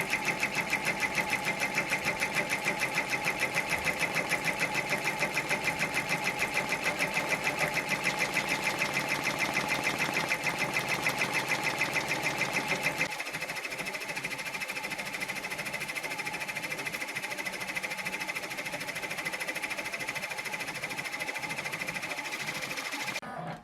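A sewing machine runs steadily through organza for a sunflower coaster, its rapid even rhythm stitching at a slow pace, then it stops partway through and leaves quieter mechanical handling sounds.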